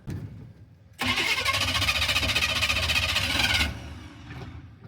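A 1985 Chevy C-20 truck's engine, long stored in a storage unit, cranks and catches after a quiet second, running loud and rough for a few seconds before dropping to a lower settle.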